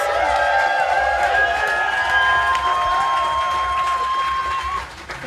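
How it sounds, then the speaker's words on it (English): A crowd cheering and applauding loudly and steadily, with whoops and shouts rising over the clapping before it fades slightly at the end. "give a very big round of applause"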